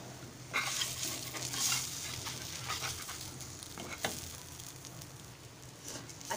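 Chunkappa ghavane batter frying in a pan as it is turned, a soft continuous sizzle close by with light scrapes and taps from the spatula, fairly quiet and with no talking.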